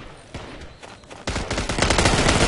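Gunfire in a shooting video game: a few scattered shots, then a loud, rapid automatic burst of repeated cracks that continues to the end.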